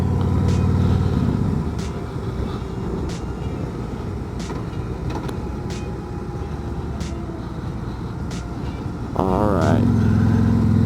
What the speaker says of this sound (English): Get up here on the on-ramp, we might be able to see how this motor performs